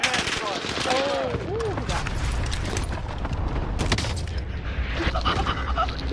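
Gunfire in a Call of Duty Warzone match with a sniper firing, heard as dense, loud, rapid bursts and booming shots packed together across the whole stretch, with a brief voice-like sound near the start.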